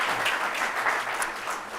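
An audience at a talk welcomes a psychoanalyst guest with applause, a dense, even patter of many hands clapping at a moderate distance, steady for the whole stretch with no voices over it.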